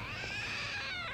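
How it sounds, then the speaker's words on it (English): A trick cat statue in the video game Lost Judgment lets out a single drawn-out, wavering meow, clear against a quiet background. "It meowed, so it's a trick statue."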